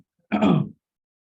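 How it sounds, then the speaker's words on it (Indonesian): A single short, rough throat clearing from a person, close and fairly loud against silence, lasting under half a second. "Batuk-batuk terus"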